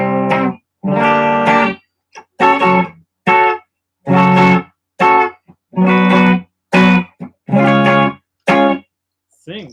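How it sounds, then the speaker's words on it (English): An electric guitar plays through its hot bridge pickup, with about a dozen loud, bright, slightly overdriven chords or notes, each ringing for under a second and separated by short silences. "Here's the bridge pickup. Much hotter."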